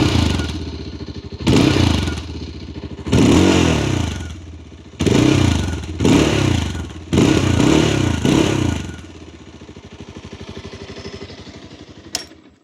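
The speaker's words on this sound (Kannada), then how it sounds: "ಗಾಡಿನ ಆನ್ ಮಾಡಿ ಎಕ್ಸಾಸ್ಟ್ ಸೌಂಡ್ ಕೇಳಿಸ್ತೀನಿ ಬನ್ನಿ ಈಗ. ನೋಡಿ ಇದು ಐಡ್ಲಿಂಗ್ ಸೌಂಡು." A new 2026 Bajaj Pulsar 220F motorcycle exhaust, heard up close in a string of about seven loud, deep throaty bursts separated by a lower steady idle rumble.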